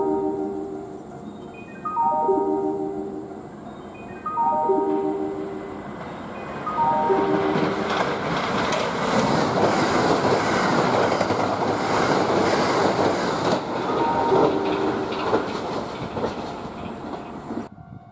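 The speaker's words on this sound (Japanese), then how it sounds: "南蛮乗り場から四日市行き普通電車が発車します" A Kintetsu local train pulls away from the platform at Ise-Wakamatsu station in Japan, its electric motor whine rising in stepped tones before a steady loud rumble of wheels and carriages fills the station.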